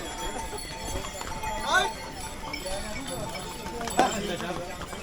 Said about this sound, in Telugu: ఈ గుర్రాల మెడలో కట్టిన గంటల శబ్దం మనకి పంతొమ్మిది కిలోమీటర్లు పద్నాలుగు గంటలు వినిపిస్తూనే ఉంటుంది